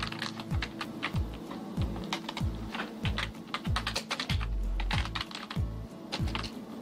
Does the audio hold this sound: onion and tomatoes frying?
no